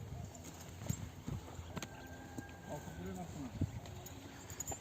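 Hooves of a young two-year-old horse with a white blaze clip-clop in an uneven rhythm of soft, near thuds on the ground, mixed with background noise and a brief high tone.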